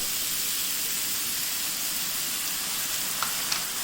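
Sauce for Thai drunken noodles (pad kee mao) hitting a hot pan, a loud, continuous steamy sizzle and hiss that holds steady, with a couple of faint clicks near the end.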